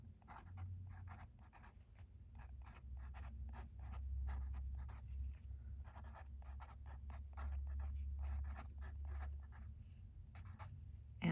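A pen writing a label on watercolor paper: steady, close scratching strokes in short bursts, quiet and continuous over a faint low hum.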